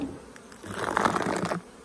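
Honey bees on orientation flights swarm near neighbouring hives, a dense, steady buzzing hum that swells in the middle and then drops back, close and continuous with no talk.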